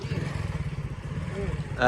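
A motorcycle engine idles with a steady low throbbing pulse, close by, while people talk over it and a brief clatter comes at the end.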